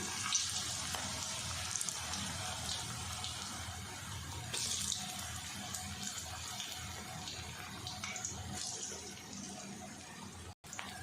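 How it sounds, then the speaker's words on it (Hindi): Mixed vegetable pakoras fry in hot oil, giving a steady, fizzing sizzle that holds evenly for several seconds with a few brief louder crackles. "पकौड़े हमने डाल दिए हैं और आंच थोड़ी तेज़ कर दें"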